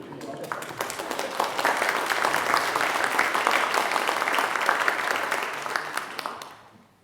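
A church congregational meeting audience claps, the applause building quickly, holding steady and dense for several seconds, then tapering off to quiet at the end.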